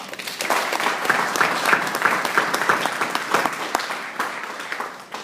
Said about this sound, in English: I also want to give one more round of applause to all of our freshmen and sophomores